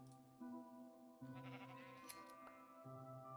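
Sheep bleating in a modded Minecraft world, several overlapping wavering bleats from a large flock, fairly close and steady over a faint background music bed, with no talking.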